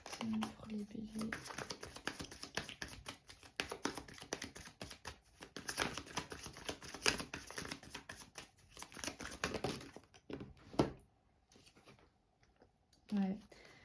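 Tarot cards handled during a card reading: soft, faint papery rustles and slides run almost continuously, with a few sharper flicks near the end, alongside a speaking voice.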